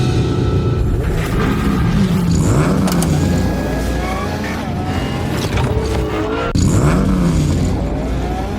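A loud car engine roars and revs continuously, pitch rising and falling with gear changes, tires briefly squealing, close and dominant throughout.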